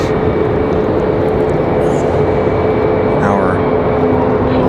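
A FedEx Boeing 767 jet arriving from Memphis at Raleigh-Durham International Airport gives a steady, loud, close roar with a thin whining tone running through it, unbroken for the whole stretch, with a voice faintly underneath.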